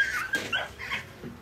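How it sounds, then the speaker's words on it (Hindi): Dogs fighting outdoors during an Eid celebration, a brief flurry of sharp yelps, whines and snarls lasting under two seconds, close and fairly loud. "हाँ, कुत्ता का लड़ाई हो गया।"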